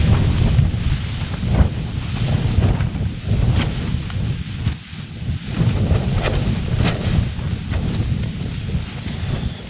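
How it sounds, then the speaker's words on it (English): Strong gusty wind buffets a tent at a stormy wild camp, roaring and rumbling into the microphone in uneven surges, loud and close with no speech. "this wind is really starting to pick up, becoming really gusty, and some quite strong gusts"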